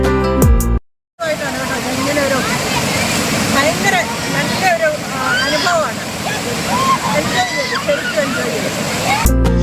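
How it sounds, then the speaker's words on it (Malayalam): Kallettupara waterfall in Idukki, Kerala, pours with a steady, loud rushing roar, scattered bird chirps and voices over it, cut by a brief silent gap near the start. "വർഷത്തിൽ 8 മാസവും പാൽനുര ചിതറുന്ന ഈ വെള്ളച്ചാട്ടം ഏതൊരാളിനും നവ്യാനുഭൂതിയാണ്"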